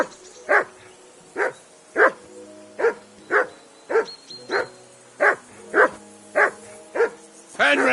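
Dog in the medieval game Kingdom Come barks repeatedly at a steady rhythm, about a dozen loud, close woofs with short whimpering tails, alone without talk.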